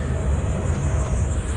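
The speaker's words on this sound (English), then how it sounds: "Another aeroplane." A steady, loud roar of an airplane passing overhead a theme park in Beijing, China, fills the air, a continuous low rumble with no pauses.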